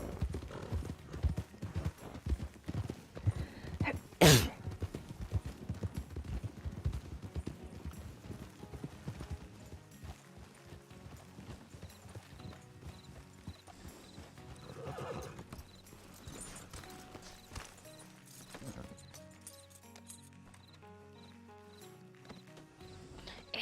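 Hooves clip-clop in a fast galloping rhythm with an Ardennes horse whinnying in Red Dead Redemption 2, followed by quieter ambient game sounds and music.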